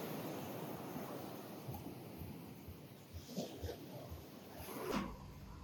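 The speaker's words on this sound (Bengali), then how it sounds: "আর সমুদ্র খুবই উত্তাল।" Rough sea on a Langkawi beach, a steady broadband wash of surf with wind buffeting the microphone and a louder swell near the end, no talking.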